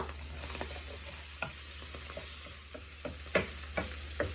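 Onion sizzles in a hot pan with a steady frying hiss, broken by scattered clicks and scrapes of a utensil stirring it.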